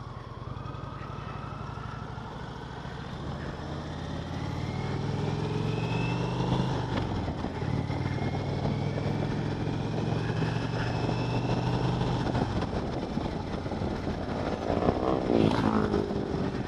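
A 2020 Indian Roadmaster Darkhorse motorcycle runs at a dealership, its engine a steady low rumble that rises to a fuller drone partway through and holds, with no talk over it.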